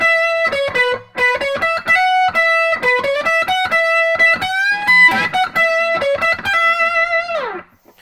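Distorted electric guitar plays the intro lead in E pentatonic, a quick run of picked notes with string bends and sustained tones, ending in a long downward bend that fades out, loud and close with no talk.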